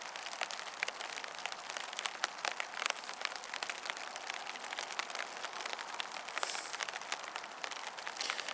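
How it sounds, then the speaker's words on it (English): Rain drumming on a tarp over a bivy, a steady dense patter of close drops on the fabric, continuous and even with no talking. "I love the sound of rain on a tarp."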